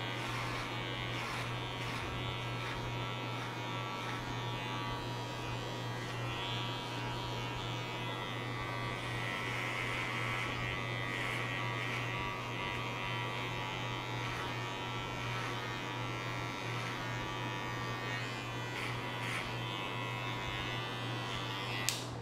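Electric hair clipper buzzing steadily for a fade haircut, a close, continuous hum with slight shifts in pitch and texture as the blades move across the head, with no talking.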